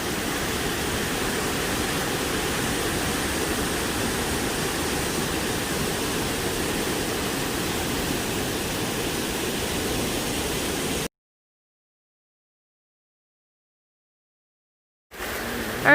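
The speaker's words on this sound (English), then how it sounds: "this waterfall is actually just off the side of the road" A roadside waterfall in the Great Smoky Mountains near Cades Cove rushes with a steady, dense, close-up roar for about eleven seconds, then cuts to silence before briefly returning.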